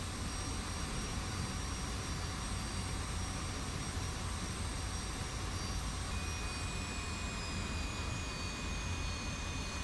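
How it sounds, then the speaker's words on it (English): Steady, loud jet engine roar of an F-86 in a flight simulator game, with a broad continuous rush and faint whining tones that shift as the engine falters, holding constant throughout without talk. "The engine seems to be flaming out all the time."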